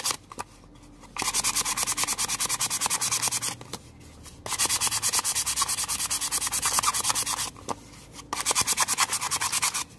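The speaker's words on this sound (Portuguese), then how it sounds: "Aqui eu tô achando que tá um pouco áspero ainda, vamos lixar." Hand sanding of an MDF box with sandpaper, rapid rhythmic back-and-forth rasping strokes in three long runs with brief pauses between, close and clear with no talking.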